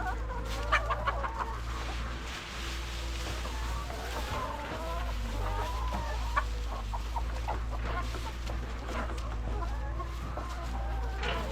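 Chickens cluck and chatter inside a coop, several birds calling in irregular bursts over a steady low hum, fairly close, with a little faint talk in the background.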